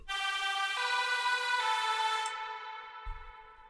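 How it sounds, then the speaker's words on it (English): Sustained synth lead layer in a melodic bass style, bright and rich in harmonics, stepping through a few held notes before cutting off abruptly near the end, heard alone with no talking. "And the third layer sounds like this."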